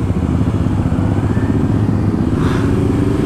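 A Kawasaki Ninja ZX25R, a four-cylinder 250cc sportbike, runs hard at speed, its engine a loud, steady, close roar with a rising whine near the end and no talk.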